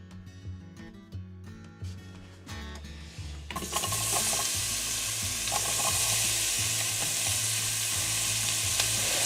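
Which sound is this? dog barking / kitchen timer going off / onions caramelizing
onions caramelizing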